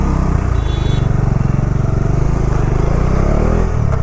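A Bajaj Dominar 400 motorcycle engine runs steadily and close, with a dense low, throbbing exhaust note that holds at a constant idle-to-mid rev level throughout.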